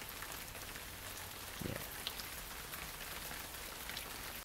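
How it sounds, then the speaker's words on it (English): Light rain patters steadily on plants, a dense, even hiss of drops throughout, with one brief quiet spoken word. "like light rain on plants"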